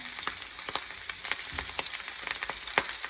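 Squash with spices and garlic powder fries in a pan, giving a dense, steady sizzle with light crackling pops close up, and no voices.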